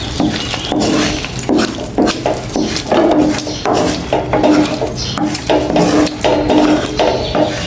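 Cooked rice tipped and scraped from a pot into a big bowl to cool, a continuous close rattle of metal scraping and soft thuds in uneven bursts, fairly loud.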